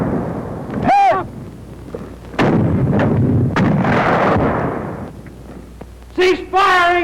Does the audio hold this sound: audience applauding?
no